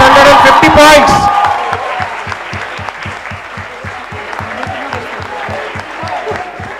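A burst of loud crowd cheering and whooping at an awards close gives way to steady rhythmic clapping in unison, a regular beat of hands continuing for several seconds at moderate volume.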